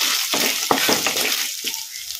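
Potatoes fry in a pan for an aloo rice dish, giving a close, steady sizzle broken by a few scraping stirs, with no talking.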